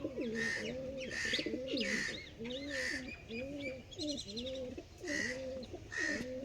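Black Jiriya pigeons cooing in repeated rolling phrases, several birds close by, with faint background noise and some chirps mixed in.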